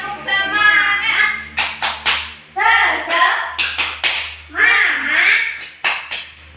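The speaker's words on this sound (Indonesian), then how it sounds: "Tepuk semangat." Rhythmic group clapping of a classroom 'tepuk semangat' clap chant, sharp claps in quick bursts alternating with children's chanted voices, close and fairly loud.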